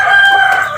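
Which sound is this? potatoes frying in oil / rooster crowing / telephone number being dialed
rooster crowing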